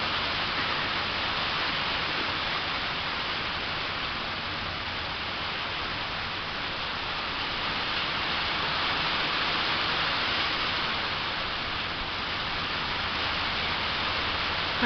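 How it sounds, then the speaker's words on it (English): Rain falls steadily outdoors as a broad, even hiss that stays constant and loud for the whole stretch, with no talk over it. "I do like the rain, though."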